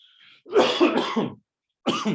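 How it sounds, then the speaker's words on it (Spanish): Several close, dry coughs in quick succession, then a brief pause and another short cough burst. "Me van a perdonar mi tosecita."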